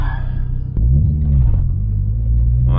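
A turbocharged Audi 10-valve engine drones loud and steady while the car is driven, with the low rumble lifting in pitch as it revs up, then holding heavy and constant, heard from inside the car.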